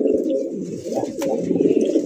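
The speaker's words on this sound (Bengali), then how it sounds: "আজকে প্রত্যেকটা কবুতর খুব ডাকাডাকি করতেছে দেখেন" Fancy pigeons in a breeder's loft, a close, continuous chorus of low overlapping coos, loud and steady with slight swells, alone without talk.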